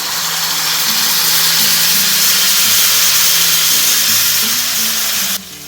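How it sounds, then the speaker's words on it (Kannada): Tamarind pulp hits garlic frying in hot oil, giving a loud, steady broadband sizzle with hissing steam that holds for several seconds, then cuts down sharply near the end. "ಒಮ್ಮೆ ಬೆಳ್ಳುಳ್ಳಿ ಫ್ರೈ ಆಗ್ತಾ ಇದ್ದಾಗೆ ಅದಕ್ಕೆ ಹುಣಸೆ ಹಣ್ಣಿನ ಪಲ್ಪ್ ಸೇರಿಸ್ಕೊಳ್ತೇನೆ"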